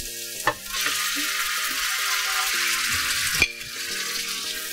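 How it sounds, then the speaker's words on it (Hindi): Chicken sizzles and fries steadily in a pan in a home kitchen, a continuous bright hiss with a couple of sharp clinks of utensils against the pan. "अभी पहले मैं चिकन डालूंगी।"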